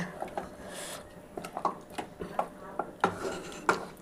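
Yogurt-marinated chicken being stirred and sautéed without oil in a pressure cooker, giving a run of close, sharp scrapes and clinks of a utensil against metal that recur in an irregular rhythm over a soft background.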